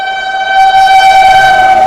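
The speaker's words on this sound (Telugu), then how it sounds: "ట్రైన్కి అయితే క్రాసింగ్ అయితే పడింది. ఏ ట్రైన్కి తెలుసా? రాజధాని ఎక్స్ప్రెస్ ట్రైన్కి." A Rajdhani Express sounds its horn while passing a railway crossing, a loud sustained multi-tone blast that swells and holds steady for about two seconds.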